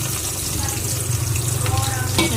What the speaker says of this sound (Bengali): এটা ভালো করে একটু ভাজা করব